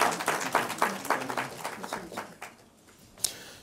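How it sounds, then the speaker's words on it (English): A small room gives a round of applause for a participant at a university law challenge between the University of Ghana and KAAF University College, with distinct claps thinning out and a final sharp clap. "a round of applause for the gentleman"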